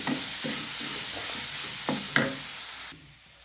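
A spoon scrapes and stirs a jackfruit mixture in a hot pan, a series of quick rhythmic strokes over a soft background sizzle, close and clear, ending with a brief quiet pause.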